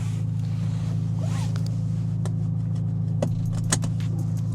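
A Ferrari Roma's V8 engine idles in a steady, deep drone that holds throughout, with a few light clicks and rattles close by on top.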